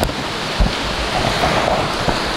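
Ocean waves at River Number Two Beach in Sierra Leone wash in as a continuous surf roar with wind noise buffeting the microphone, steady and close throughout.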